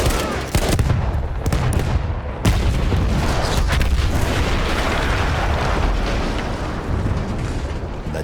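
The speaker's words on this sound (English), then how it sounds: "That explosion was one of the sweetest sights of the war for me." A large artillery gun blown up in Battlefield 1 gives a loud, sustained roar of explosion and rumbling debris. Sharp cracks open the blast, and a dense wall of noise follows and fills the whole stretch with no speech.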